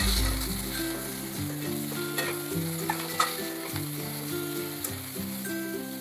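Peas, chickpeas and sugarcane sautéing in a pan for a Maharashtrian Bhogi bhaji, a steady close sizzle with occasional stirring clicks while background music plays.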